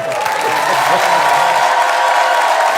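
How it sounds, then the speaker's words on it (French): A French television studio audience applauds in a sustained, dense wash of clapping that fills the whole moment, with a faint crowd murmur underneath. "applaudissez-moi sa veste."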